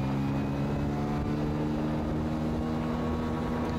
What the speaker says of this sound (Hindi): बस फर्स्ट गियर में बाइक 30 की स्पीड में चल रही है और ये भाई सेकंड गियर डाल दिया।